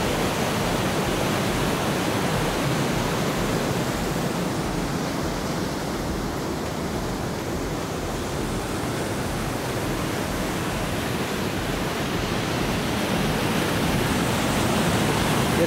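A snowmelt stream flowing in Gunlock State Park, Utah, a loud, dense, unbroken rushing wash of water that stays steady throughout.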